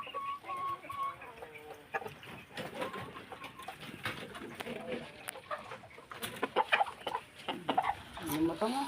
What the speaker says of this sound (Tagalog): Anong manok yan? Black Astrolop to.